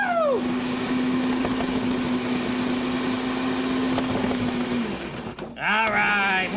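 A food processor blade whirs steadily as it chops onion, a loud continuous motor drone that winds down near the end, followed by a brief clatter and squeal.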